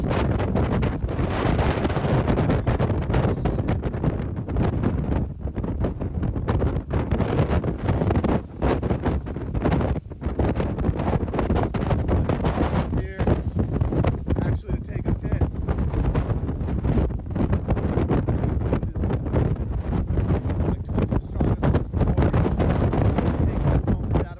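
Strong, relentless wind buffets the microphone on a journey to Akureyri, a loud, dense roar with constant gusting that fills the whole stretch.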